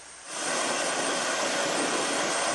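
A rescue helicopter over a flooded area makes a steady, loud, broadband engine and rotor roar that swells up in the first moments and then holds without pause.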